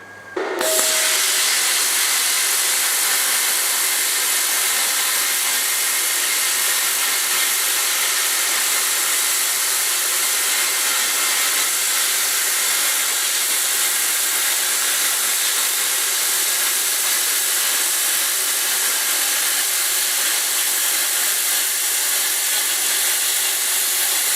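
A plasma cutter makes a test cut through steel for an old log burner repair: a brief sharp start, then a loud, continuous close-up hiss that holds steady for the whole cut without speech.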